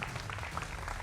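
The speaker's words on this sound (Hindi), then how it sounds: "उनके लिए का भी अभिनंदन है और जोरदार तालियां।" A studio audience on a cricket debate show claps in a short, soft burst of scattered applause.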